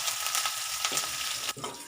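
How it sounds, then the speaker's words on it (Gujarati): Green chillies sizzle and crackle in hot tempering oil with curry leaves and asafoetida, a steady close frying hiss with a brief dip near the end as they are stirred. "પછી આપણે એમાં લીલા મરચાંને એડ કરીશું"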